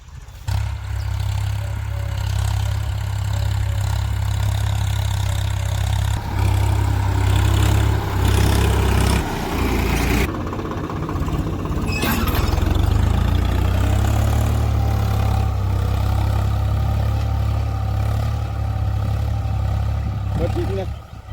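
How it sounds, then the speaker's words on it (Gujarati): A tractor engine runs steadily in a farm field during cotton ridge-making, a loud continuous low rumble throughout with people talking over it. "જો ટ્રેક્ટર ચાલુ છે"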